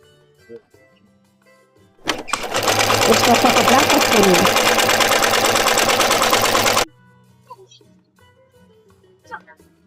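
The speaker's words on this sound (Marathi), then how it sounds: "आता हे फोल्ड करून घ्यायचं आणि शिलाई मारायची" A sewing machine stitches folded blouse fabric in one fast, loud burst of about five seconds, with quiet handling and faint background sounds before and after.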